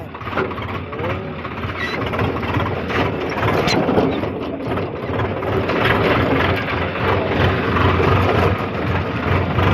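A Swaraj tractor engine runs with a rotavator attached in a farm field, giving a steady, loud mechanical drone with rattling, clanking gear and blade noise throughout.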